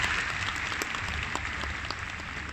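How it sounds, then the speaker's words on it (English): An audience at an inauguration event applauds, a dense, steady round of clapping heard from close by for the whole span. "One round of applause for this thought, which is now a reality."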